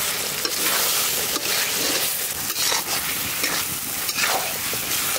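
Fried chicken, boiled chickpeas, bay leaves, cardamom, cinnamon and whole black peppercorns go into a pot of hot oil for kabuli chicken rice, with steady close sizzling and frying broken by stirring scrapes throughout.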